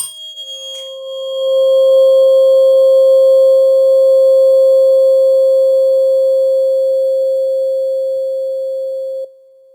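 A steady pure 528 hertz tone sounds loud and unbroken for about nine seconds, with faint scattered clicks over it, then cuts off abruptly.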